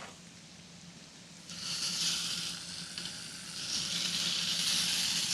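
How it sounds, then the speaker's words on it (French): Salmon fillets hit a hot frying pan and break into a bright, steady sizzle that swells and holds, close and fairly loud with no voices over it. "mets donc les filets de saumon dans la poêle"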